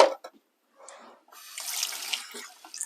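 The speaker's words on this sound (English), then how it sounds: "Okay, so wash hands again." Tap water runs into a sink as hands are washed during cooking. A few short splashes come first, then a steady, close hiss of running water that lasts to the end.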